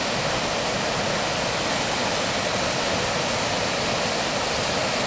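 Waterfall on the Ingleton Waterfalls Trail in the Yorkshire Dales, a constant dense roar of falling water, loud and unbroken throughout.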